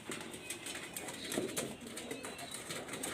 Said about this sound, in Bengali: দেখেন ভালো মানের 35 কবুতর